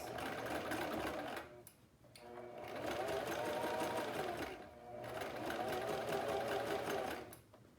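A sewing machine back-stitches a pleated face mask, running in close, loud bursts with two brief pauses between runs and faint background voice.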